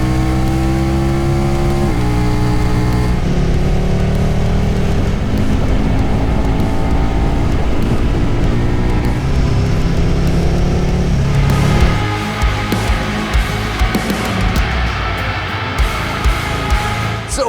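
Loud 2022 KTM Super Duke R Evo motorcycle engine at a COTA track day, revving and shifting through gears with a steady roar that swells and changes pitch, no talk.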